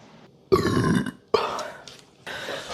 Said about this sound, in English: I like how I lose like 50 viewers every time I burp.